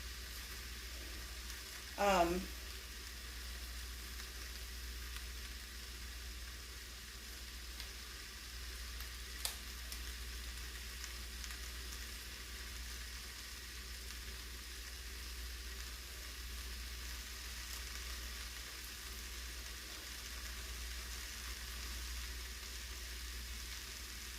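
Canned corned beef fries in a pan with a faint, steady sizzle, close but quiet. There is one brief clatter early on and a small tick later.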